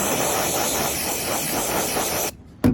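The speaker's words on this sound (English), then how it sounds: "So spray it on the affected area" A steady, loud spray of brake parts cleaner from an aerosol can hisses for about two seconds, then cuts off, followed by a brief clunk.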